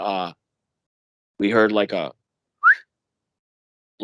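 A person's voice speaks in short bursts, then a single quick, rising whistle imitating a bird call.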